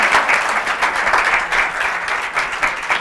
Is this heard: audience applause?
yes